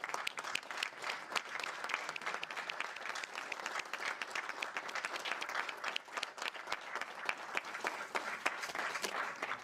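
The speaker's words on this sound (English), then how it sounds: "Those of us who are here to support must stand up and applaud them." A large audience applauds award recipients at a university distinguished awards ceremony, dense steady clapping sustained throughout at moderate distance, with no one speaking over it.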